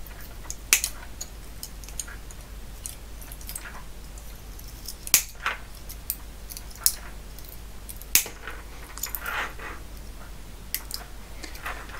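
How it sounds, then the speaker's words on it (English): Cutters snipping off old transformer wires: a few sharp, isolated clicks and snaps spread over a quiet, steady background hum, close to the microphone. "I don't intend to reuse these wires, so what I can do now is just cut these off."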